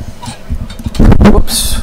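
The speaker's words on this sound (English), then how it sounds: "Sorry about the noise. I almost tipped over the microphone." A loud, sudden clatter and thump close to the microphone, followed by a brief rustling knock.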